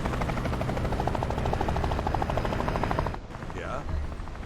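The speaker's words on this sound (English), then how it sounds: "it is a helicopter." In the Cold War strategy game Phantom Doctrine, a helicopter beats with a loud, continuous rotor chop, then cuts off abruptly near the end, leaving quieter background game sound.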